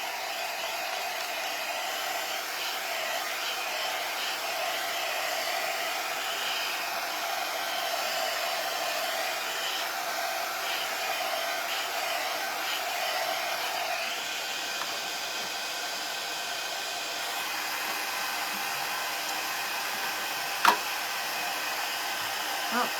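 A hair dryer runs steadily to dry wet paint on a craft project, a continuous close whir with a brief knock near the end and no talk over it.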